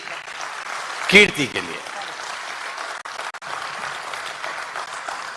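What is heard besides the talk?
audience applause at poetry event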